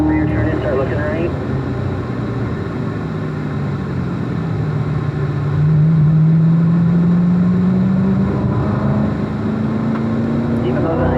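A Corvette's engine hums under the driver's steady talk as the car rolls around a driving-school track, its drone rising in pitch as it speeds up.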